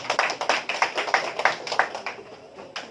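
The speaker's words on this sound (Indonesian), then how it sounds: "tepuk tangan" A classroom group claps in a loose rhythmic burst, a dozen or so distinct sharp claps close by, tapering and fading toward the end with no talk.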